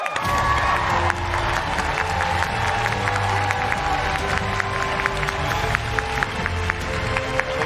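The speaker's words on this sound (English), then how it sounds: "please start clapping for the fan favorite winner of the evening" A TwitchCon 2019 cosplay contest audience breaks into sustained applause and cheering for the fan favorite winner, a dense crowd clapping steadily with scattered shouts for several seconds.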